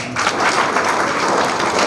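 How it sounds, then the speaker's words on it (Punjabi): An audience at a New Era College student honours ceremony bursts into applause, a dense, loud patter of many hands clapping steadily throughout. "ਮੈਂ ਚਾਹਾਂਗਾ ਕਿ ਤਾੜੀਆਂ ਮਾਰ ਕੇ ਉਹਨਾਂ ਦੀ ਹੌਸਲਾ ਅਫਜ਼ਾਈ"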